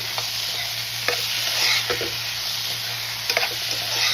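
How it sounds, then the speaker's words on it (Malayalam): Raw plantain being stirred with masala in a pan, with a steady frying sizzle and several scraping strokes of the spoon across the pan. "നമുക്ക് നന്നായിട്ടൊന്ന് ഇളക്കി കൊടുക്കാം. ഇളക്കി യോജിപ്പിക്കാം."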